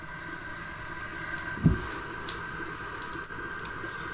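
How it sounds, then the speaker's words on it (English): Tap water running over the lace of a wig during a wig wash, a steady close wet hiss with a few brief splashes and drips, no talking. "So literally all I'm going to do is put water on the lace part."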